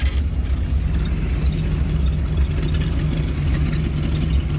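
A 1931 Ford Roadster pickup's tri-power V8 engine idles steadily nearby, a low, even rumble with a faint whir, no voices over it.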